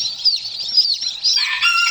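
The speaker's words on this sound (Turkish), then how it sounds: "Buraya yeni civcivler getirdim dostlar." Newly brought chicks and young chickens, Indian and Wyandotte birds in a cold coop, peep and cheep continuously in a high-pitched chorus, close and steady with no talk.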